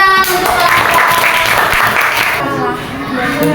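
Schoolchildren in a sixth-grade primary classroom burst into loud, dense applause, clapping steadily for a few seconds, with voices mixed in and a brief dip near the end.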